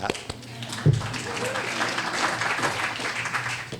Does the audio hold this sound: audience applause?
yes